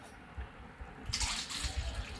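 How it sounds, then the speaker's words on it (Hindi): After a quiet start, a rush of water pours into a pot of strained chutney and splashes continuously, bright and close, until the end. "अब हम इसमें पानी डालेंगे।"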